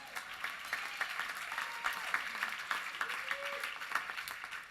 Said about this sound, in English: if you know these people, clap